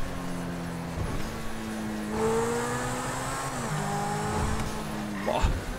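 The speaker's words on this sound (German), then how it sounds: "Hat aber den Sound vom Centorno, oder?" Lamborghini Centenario supercar driven in GTA 5, the engine droning steadily then rising through gear changes, with brief revs and tire noise, close and continuous.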